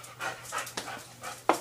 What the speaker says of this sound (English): I'm taking my dog out.